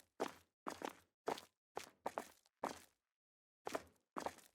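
Footsteps in an Adventure Creator game built in Unity, eight quick discrete steps in two uneven bursts with a short pause between, each step sounding doubled and close, with no other sounds.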